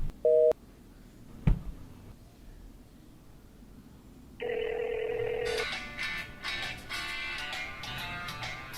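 A telephone call cut off: a brief beep, a click, then a steady electronic tone sets in and shifts to a harsher continuous signal, heard alone and fairly loud.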